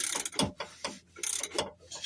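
Old mechanism under restoration being turned over gently by hand, giving a run of soft ratcheting clicks and mechanical clatter in several short bursts, close and fairly quiet with no scraping.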